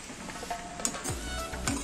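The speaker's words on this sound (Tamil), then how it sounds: "இப்போ எல்லாத்தையும் சேர்த்து நல்லா மிக்ஸ் பண்ணி விட்டுடலாம்." Poha biryani ingredients being stirred together in a pan, with scraping strokes and soft clatter over a faint background sizzle, close by and without speech.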